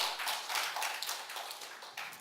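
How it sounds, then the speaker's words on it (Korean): A church congregation claps in praise during a worship service, dense overlapping hand claps forming a bright, fairly soft and even patter that tapers slightly toward the end. "우리 하나님 앞에 영광의 박수 올려드립니다"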